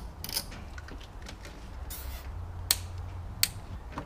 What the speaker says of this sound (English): I can zip tie it to a couple of these other wiring harnesses